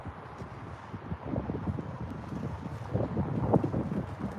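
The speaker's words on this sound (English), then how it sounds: "Wind's picking up a little bit," Wind buffets a microphone outdoors beside the West Coast Main Line near Crewe, a low rumbling roar that swells and gusts steadily throughout with no voices.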